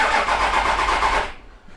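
A Toyota 80 Series Landcruiser 1HZ diesel engine is cranked with its glow plugs removed so it cannot fire. The starter churns loudly and evenly for just over a second, then cuts off into quiet.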